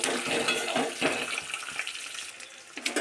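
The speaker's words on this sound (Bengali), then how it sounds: "প্রথমে ডিমটাকে লাল লাল করে ভেজে" An egg fries in hot oil in a pan for a Bengali egg curry, giving a close, steady, bright sizzle with crackling spatters that ease off slightly toward the end.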